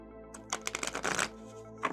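A small deck of large oracle cards is riffle-shuffled close up, a quick rapid flutter of card edges with a brief pause and another short riffle at the end.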